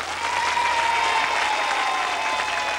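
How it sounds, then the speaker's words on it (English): A studio audience applauds steadily after a Sooty magic trick, a dense wash of many hands clapping together at moderate volume. "Give Sooty a big clap for doing that."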